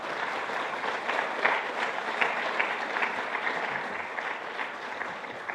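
Audience applause welcoming a pastor from the Misión Buenas Nuevas Perú church to a Bible seminar, steady and moderately distant clapping from a hall crowd that holds evenly for several seconds with no talking.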